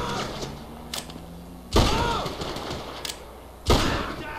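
Gunfire in the video game GTA V: a few sharp, loud reports spaced about two seconds apart, each with a short decaying tail, over quieter game background noise.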